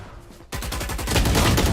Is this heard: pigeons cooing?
no